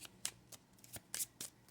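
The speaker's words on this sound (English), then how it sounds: "Now, I'm going to shuffle." A deck of fortune-telling cards being shuffled by hand, about six quick riffling bursts in a loose rhythm, close and fairly quiet with no voices.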